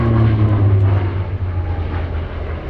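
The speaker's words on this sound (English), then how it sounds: "So the pilot Paul Bonham showing his amazing skills" A Hawker Fury Mk.II piston fighter's propeller engine drones loudly and steadily overhead at Sywell Airshow, a deep throbbing roar sustained throughout without voices.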